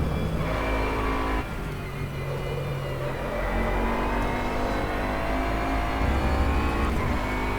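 A Bentley Continental GT3 race car in the rFactor 2 driving simulator, its engine droning loudly and continuously, with rising revs and gear changes over several seconds.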